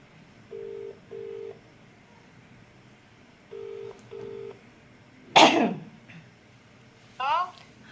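Telephone dialing tones beep in two quick pairs, four short even tones over quiet hiss, followed by a nearby cough and throat clearing.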